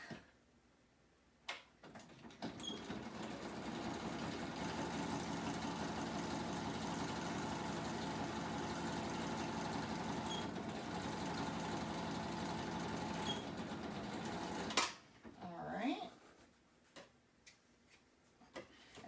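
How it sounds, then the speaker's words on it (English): A sewing machine runs a straight stitch through the center of a notebook signature, giving a steady whirring hum with fine rapid ticking for roughly twelve seconds, starting and stopping abruptly with brief handling noises around it. "I'm going to center this signature into the middle. And I'm just going to straight stitch it in"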